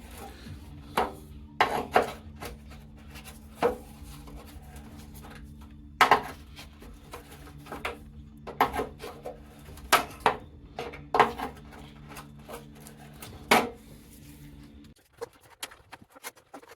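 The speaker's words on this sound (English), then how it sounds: "I'll just undo all these clips and then pull them off." Trim clips on a 1963 Chevy C10 front fender are undone and pried off in a series of sharp, irregular plastic-and-metal clicks and snaps, close up against a faint steady background hum.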